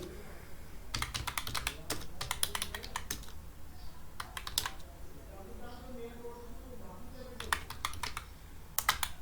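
Bursts of keystrokes on a computer keyboard as a line of text is typed, clusters of quick clicks separated by pauses, close and clear, with faint background voice murmur.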